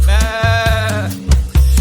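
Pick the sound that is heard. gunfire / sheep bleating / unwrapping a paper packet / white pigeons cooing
sheep bleating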